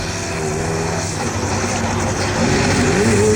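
A turbo diesel rear-wheel-drive buggy on a Dakar 2002 rally stage drones steadily and loudly up close, the engine pitch rising slightly toward the end, with commentary talking over it.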